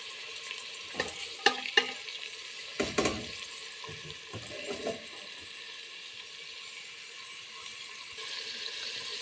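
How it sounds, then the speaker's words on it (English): Onions and red chilies sizzle in a pan over high heat, a soft steady frying hiss broken by a few close clatters and scrapes of stirring. "just browning the onions slightly"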